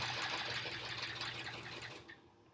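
Sewing machine stitching continuously at a steady fast hum while thread painting a quilt block, close and even before easing off near the end.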